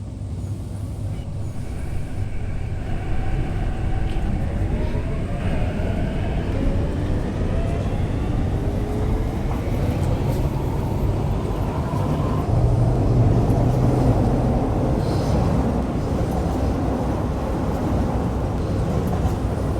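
A Hong Kong MTR C-Train runs between stations on the modified initial system, giving a steady loud rumble of wheels and traction motors with faint rising and falling motor whines, heard from inside the carriage.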